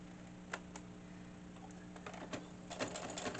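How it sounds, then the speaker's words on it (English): A sewing machine stitching around the edge of a tea bag wallet, a soft, quiet run of needle ticks and mechanical clatter over a steady low hum, close by and without talk. "So now we're going to stitch all the way around to secure everything."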